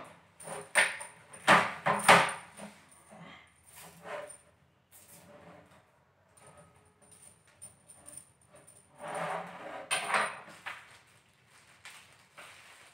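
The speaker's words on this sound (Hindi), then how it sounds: "बड़ी कॉइल जो कि 11 इंची का है मैं इसे ज्वाइंट करूंगा" An 11-inch coil being fitted to a Makro Racer 2 metal detector, with close plastic-and-metal clicks, rattles and handling knocks in irregular bursts, louder at the start and again near the end, with no talk.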